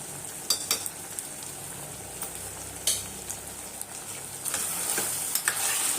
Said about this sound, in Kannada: ಚೆನ್ನಾಗಿ ಇನ್ನೊಂದು ಮಿಕ್ಸ್ ಮಾಡೋಣ ನೋಡಿ ಚೆನ್ನಾಗಿ ಫ್ರೈ ಆಗಿದೆ